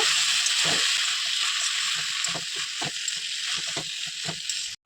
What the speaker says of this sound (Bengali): এটাকে আমি ভালোভাবে কিছুক্ষণ ধরে নেড়ে নিব